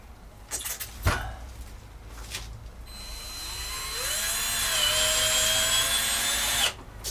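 Power drill driving screws into the plywood floor of a Peugeot Boxer L2H2 van under campervan conversion, starting with a few brief knocks and then a long steady whirring drive that rises in pitch before stopping abruptly, fairly close.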